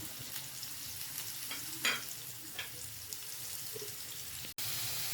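Carrots and chicken filling for momos frying in a pan, a faint, steady sizzle with occasional scraping stirs, heard close and alone.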